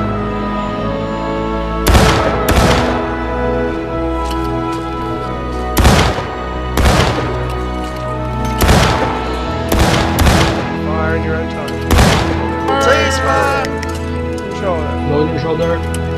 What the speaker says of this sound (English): After that first wave of firing, you will fire in your own time until the command to cease fire is given